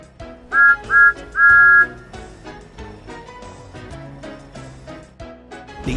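Thomas the Tank Engine sounds his whistle: three bright, high toots, two short and one longer, over cheerful background music with no talk.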